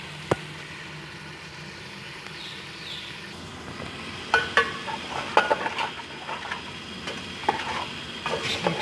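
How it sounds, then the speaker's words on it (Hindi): Spiced masala being stirred into okra frying in a pan, a soft sizzle running throughout, with scraping and clinking of a spoon against the pan growing more frequent in the second half. "अभी वो मसाला हम भिंडी में डाल देते हैं।"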